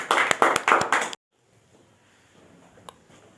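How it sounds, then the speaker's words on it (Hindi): Audience at a Hindi comedy poetry gathering in Lucknow claps briefly and loudly to welcome a poet, a quick burst of sharp claps lasting about a second before cutting to near silence. "उनके सम्मान में आप सब लोग जोरदार तालियां बजाएं।"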